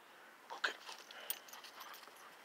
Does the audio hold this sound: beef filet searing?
no